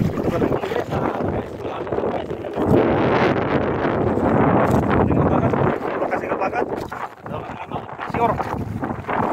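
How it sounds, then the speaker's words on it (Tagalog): Strong monsoon wind buffets the microphone with a steady roar, mixed with the wash and slap of rough water around a fishing boat, continuous throughout. "Talagang mahangin guys yung alon-alon"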